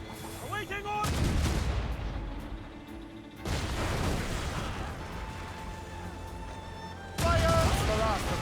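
Cannons boom during a naval battle in Assassin's Creed Rogue, with heavy, loud volleys of fire rolling over one another as shouted voices carry through the din.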